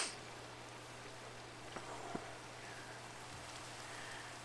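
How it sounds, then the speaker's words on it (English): Steady rain falls across a night scene in Minecraft, a soft even hiss with no talking over it, broken only by a couple of faint clicks near the middle. "It's night and it's raining, and I don't like rain, so I'm going to go and sleep."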